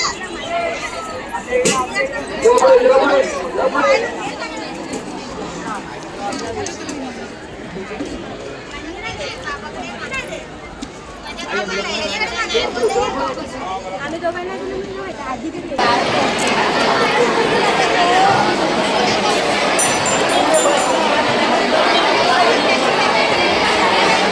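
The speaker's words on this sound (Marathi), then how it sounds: "इकडे बघा किती गर्दी आहे बघा अजून पण." A large crowd chattering at Jivdani Devi temple in Virar, in an open hilltop area: a dense babble of many overlapping voices, later shifting to a steadier, louder wash of noise.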